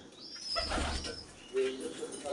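Pigeons in a loft give soft low coos, a couple of murmuring calls close by over faint background noise, with a brief higher chirp.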